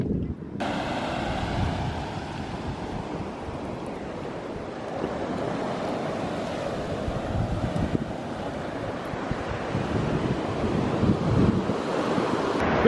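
Waves break on a beach under strong wind that buffets the microphone. The roar of the surf is loud and continuous throughout, with no voices.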